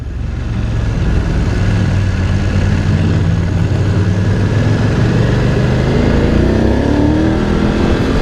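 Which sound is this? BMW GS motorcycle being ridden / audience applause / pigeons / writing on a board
BMW GS motorcycle being ridden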